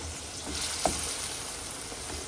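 Baim fish sizzling softly in a pan as it fries and braises, a steady low crackle with one brief sharper pop near the middle.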